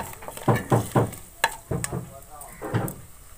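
Whole red chillies frying in a pan with potatoes for a simple aloo sabzi, sizzling under repeated stirring and scraping strokes, a run of close, uneven knocks and scuffs against the pan.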